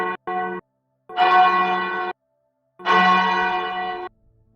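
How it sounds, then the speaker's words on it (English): Church bells ring loud and close: two quick short strokes, then two long sustained, resonant peals separated by brief silences, each dying away cleanly. "you guys hear the bells. You hear the bells going off"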